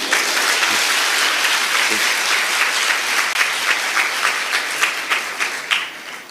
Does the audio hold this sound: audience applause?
yes